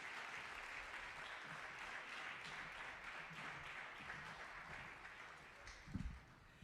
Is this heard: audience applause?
yes